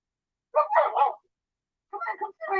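Dog barking, a pair of sharp close barks followed after a pause by another quick burst of yappy barks, loud and distinct against near silence.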